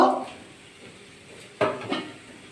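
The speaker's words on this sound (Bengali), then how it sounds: "আবার একটু ঢাকা দিয়ে রেখে দেবো" A metal lid set down onto a cooking pot of cauliflower and onion-stalk curry, one clear clanking contact followed by a smaller second knock, close and fairly loud after a quiet stretch.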